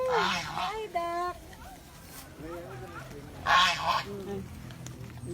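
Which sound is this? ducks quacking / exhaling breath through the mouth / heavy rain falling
ducks quacking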